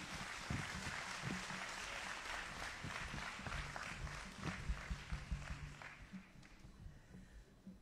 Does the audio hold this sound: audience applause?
yes